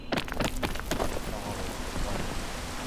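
Rain hisses steadily in a game called PEAK, a dense, even patter filling the short stretch with a few sharper taps at the start and no talk over it.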